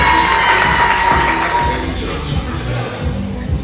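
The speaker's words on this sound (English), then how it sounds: "give a big round of applause for my brother, the very talented Mr. Robert Curry." A crowd at a live showcase cheers and claps loudly for a performer, with whoops and yells rising over a steady roar that slowly eases off.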